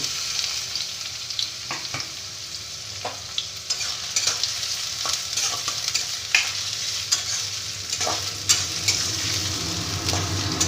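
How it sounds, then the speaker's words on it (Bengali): Chopped onions sizzle steadily in hot oil in a wok, with a broad frying hiss throughout and scattered light scrapes and clicks of stirring; no talk. "এই পেঁয়াজ কুচিটা এবার ভেজে নেব"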